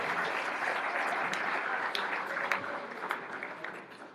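An audience at a student-athlete talk applauds for a few seconds, a soft, steady wash of clapping at moderate distance that gradually thins out.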